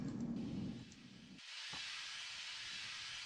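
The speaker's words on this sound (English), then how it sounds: "looked a lot like steam valves" Steam valves hissing in the video game Myst III Exile: after a muffled low rumble fades, a bright, steady hiss of escaping steam starts abruptly and holds at a soft level to the end.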